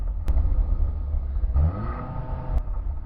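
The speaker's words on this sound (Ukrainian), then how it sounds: "це оновлена спортивна вихлопна система" A new Skoda Octavia vRS engine with an updated sports exhaust rumbles at idle, then revs up briefly with a deep, throaty exhaust note before settling back down.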